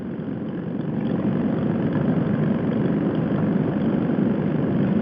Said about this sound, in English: My exhaust is too loud for me to think most of the time.